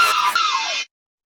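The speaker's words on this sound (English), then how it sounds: "And then it also goes with the scream as well." A sampled scream in breakbeat music production, a loud, harsh shriek with a falling pitch that cuts off abruptly after under a second, leaving silence.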